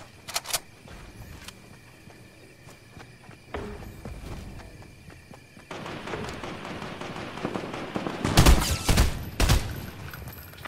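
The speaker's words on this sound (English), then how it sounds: "Oh, they're shooting at me." Fortnite players fire guns in bursts: scattered shots early, then a dense rattling volley near the end, mixed with footsteps and game ambience, fairly loud and close.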